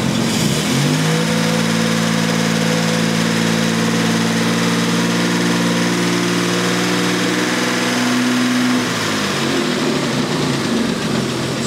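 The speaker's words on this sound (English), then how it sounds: "I'm going to give it a bit of throttle and it should even get lower down." Steadman TS 100 engine rising from idle to a steady, sustained rev under throttle, loud and close with a constant deep hum and vibration, then dropping back near the end.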